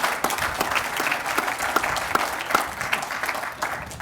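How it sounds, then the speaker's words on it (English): Audience applause for solar energy partners at a county courthouse solar project event, a dense, steady patter of many hands clapping at moderate distance with a few sharper claps standing out, continuing without a break. "Please give them a huge round of applause."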